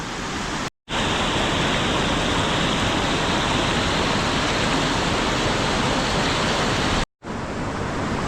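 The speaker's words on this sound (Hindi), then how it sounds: "और ब्यास नदी का जो पानी आप यहाँ पे देख रहे हो, इतना ही पानी इस मलबे की दीवार के उस साइड भी बह रहा है।" Beas river floodwater rushing past a debris wall after flood damage in Kullu Manali, a loud, continuous roar of churning water broken by two brief cuts.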